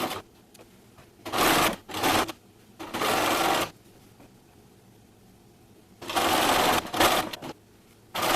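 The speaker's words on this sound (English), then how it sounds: "Now I'm going to just sew with a straight stitch along the middle line where I already sewed" A sewing machine straight-stitches frosting ruffles onto a cupcake costume in several loud bursts of rapid needle chatter, separated by quiet pauses.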